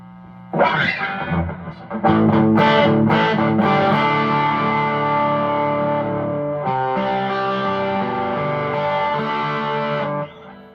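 An electric guitar through a boost pedal and an Empress Buffer+ rings out distorted with a few picked notes, then sustained thick chords that hold and slowly fade, loud and close.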